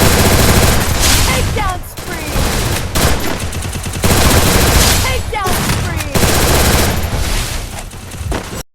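An MP40 submachine gun firing in the Free Fire video game, loud sustained automatic bursts in three long strings with brief gaps between them, close and dominant, with some speech mixed in.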